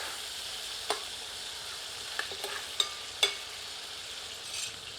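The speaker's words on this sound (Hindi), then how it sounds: "मुर्ग भुन चुका है" Chicken pieces fry in hot ghee with a steady sizzle, broken by a few sharp scrapes and clicks as they are stirred in the pan.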